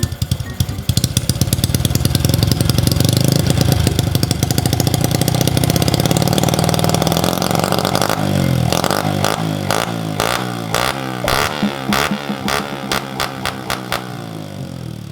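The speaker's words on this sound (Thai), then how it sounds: "มาดูท่อครับ เนี่ยครับ ไม่ได้แอกอยู่ละ แต่ว่าท่อก็ดังดีนะเบิ้ครับ" A motorcycle fitted with a performance racing camshaft and a loud aftermarket exhaust idles roughly, then blips its throttle in a rapid series of sharp, loud revs, close up with no talking.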